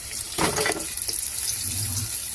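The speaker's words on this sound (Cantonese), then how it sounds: "好啦，啲豬手咧洗乾淨" Tap water gushes into a sink as pork trotters are washed, a short burst of splashing running and then easing into a quieter trickle.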